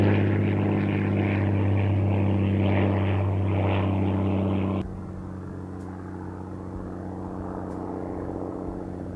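A propeller aircraft at Christchurch airport drones with a loud, steady engine hum and a pronounced tonal buzz that drops abruptly partway through, leaving a lower, softer rumble that slowly builds again.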